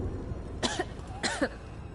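Two short, raspy coughs from a character in Dragon Age: The Veilguard, about half a second apart, close and clear, over a quiet background hiss.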